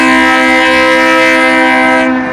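A train passes close by, a loud, steady rumble with a sustained horn-like tonal drone holding strong from start to finish, set against a snowy sidewalk scene.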